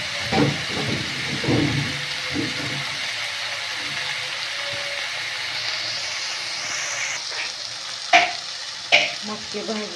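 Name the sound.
moth beans roasting with tomatoes in a pan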